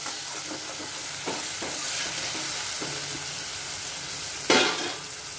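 Spice paste hits browned onions frying in a pan, giving a steady loud sizzle with a few soft stirring scrapes and one sharp louder burst near the end, with no talking.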